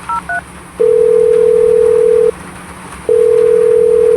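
A telephone number is dialed with a few quick, short keypad tones, then two long, loud steady tones sound with a brief gap between them.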